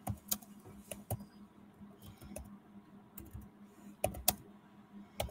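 Irregular keyboard typing at a computer, with bursts of sharp clicks and pauses between them, set against a low steady hum. The keystrokes are moderately close and no one speaks.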